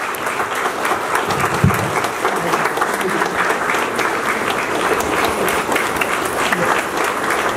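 Audience applause at an honouring ceremony for Grand Master Tulsi Kumar Gurung, sustained crowd clapping that stays steady and fairly loud, with some voices mixed in underneath.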